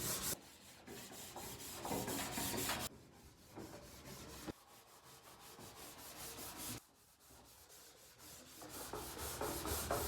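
Car body metal is hand-sanded with 80-grit sandpaper in bodywork, giving close, fairly quiet rasping strokes that come in several long bursts separated by short pauses.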